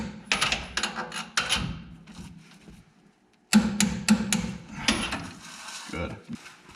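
A ratchet wrench tightens new lug nuts on a rebuilt leaf spring pack with bursts of rapid clicking, a short pause, then another set of clicks, close by with faint talk mixed in.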